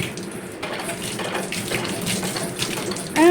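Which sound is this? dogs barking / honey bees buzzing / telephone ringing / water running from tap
water running from tap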